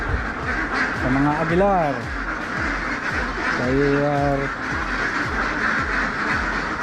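Farm ducks in a poultry yard give two bursts of nasal quacking close by, with steady barnyard noise throughout and people talking over it.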